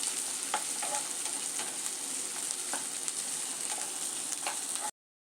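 Chopped onions fry in a pan for a soya chunks fry, sizzling steadily while a utensil scrapes and stirs them in light, regular strokes before the sound cuts off abruptly.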